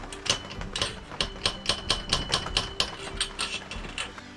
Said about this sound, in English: I even brought the nuts and bolts. And a wrench.